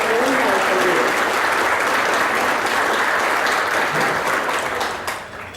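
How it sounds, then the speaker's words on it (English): An audience at a university spring reunion banquet breaks into sustained, dense applause, loud and close, holding steady for several seconds before tapering off at the end. "Give them all a round of applause."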